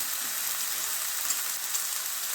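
Masala fries in oil with a steady, even hiss of sizzling, soft and close, no talk over it and no distinct pops.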